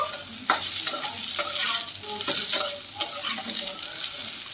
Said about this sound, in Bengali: পেঁয়াজটাকে দিয়ে ভালোভাবে ভেজে নিয়েছি, এবারে দিয়ে দিচ্ছি কেটে রাখা শিম। এটাকেও ভালোভাবে মিক্স করে নেব।